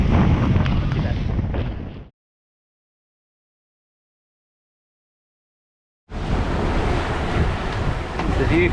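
Wind and ocean waves roar steadily aboard a sailboat at sea with a single reef in the sail, loud blustery wash on the microphone, broken by a few seconds of silence midway.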